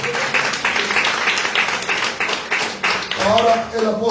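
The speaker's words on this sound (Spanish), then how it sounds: "da un aplauso a nuestro Dios" Church congregation applauding in praise of God, a loud, steady mass of clapping with voices mixed in and a worship leader speaking over it near the end.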